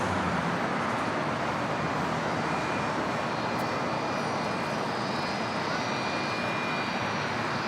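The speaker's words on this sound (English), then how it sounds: "Got that United 777 now rolling down at 25 right" United Boeing 777 jet rolling down runway 25 Right at LAX, a broad, steady roar of engine noise that stays loud and even throughout with no talk.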